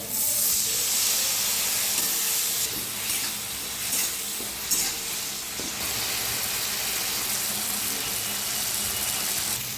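Steady loud hiss and steam of a little water hitting frying masala with turmeric and Kashmiri chili powder for Bengali fish curry, continuous sizzling spray with faint clinks throughout.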